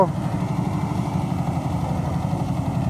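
A two-axle Mitsubishi Fuso ten-wheel truck with a turbocharged diesel engine runs with a steady, close, loud low rumble that throbs evenly throughout, with no break in the sound.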